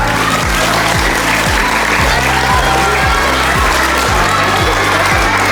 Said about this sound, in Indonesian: tepuk tangan dulu dong buat Pak